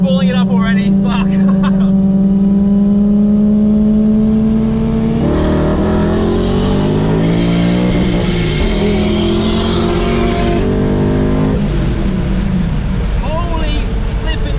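Tuned V8 BMW M5 drag car at a drag and roll race, its engine droning close by, then spooling up and accelerating hard with a rising roar and gear changes under excited voices.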